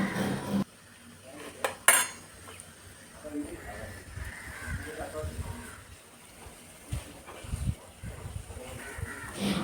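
Chicken pieces are mixed in a pan with soy and tomato sauce, giving scattered clinks and scrapes of a utensil against the pan under a low voice that talks intermittently.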